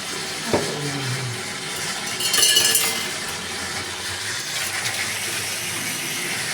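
Running tap water gushes over developed 35mm film during rinsing, a steady watery wash with a brief louder splash and faint glassy clinks.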